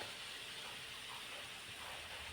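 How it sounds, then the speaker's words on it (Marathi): Green pea puri frying in hot oil, a steady, faint hiss of sizzling that carries on without break, alone and unaccompanied by talk. "आता दुसऱ्या बाजूने आपण ही तळून घेणार आहोत."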